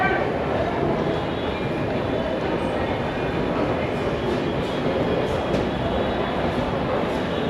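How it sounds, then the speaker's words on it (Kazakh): A Delhi metro train running, a loud steady rumble of wheels and carriage noise heard from inside, continuous for the whole stretch, with faint voices mixed in. "Осындай Delhi'nin метросы."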